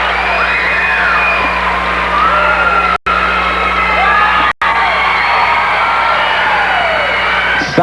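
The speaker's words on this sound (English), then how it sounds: "Stockton has definitely got a crowd here as well, as you can hear there." Crowd in a Stockton gym cheering loudly at a 1999 Kansas high school wrestling match, with steady whoops, yells and shouting from a packed audience, sustained throughout with two brief cuts.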